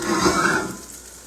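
Crispy skin salmon frying in a hot pan: a steady, close hiss and crackle of sizzling oil that gradually softens toward the end.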